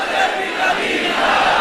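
A large crowd chants a slogan in unison at a religious rally, a dense continuous roar of many voices that stays loud for the whole moment.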